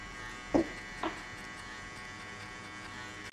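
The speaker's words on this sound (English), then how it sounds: "I will open the clipper to the end and I will go 1 inch" An electric hair clipper opened fully to cut one inch during a buzz cut, giving off a steady close mechanical buzz throughout, with a couple of brief clicks or knocks near the start.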